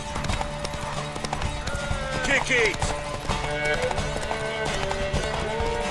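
Horse hooves gallop in a rapid clip-clop rhythm in The Witcher 3, under game music and voices calling out.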